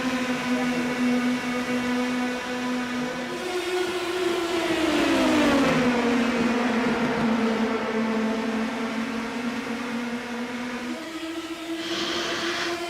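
Pack of race cars in the iRacing sim pulling away at the green flag at Gateway, a steady droning engine roar with pitch sweeping downward then climbing again as the field accelerates, with no talk.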